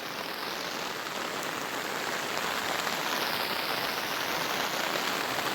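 Steady, dense rain pours down on surfaces nearby in a village, a constant hiss with no pauses and no voices.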